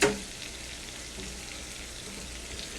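Chopped onions sizzle and crackle in a hot frying pan with a steady, close hiss, a sharper burst at the start as they hit the oil.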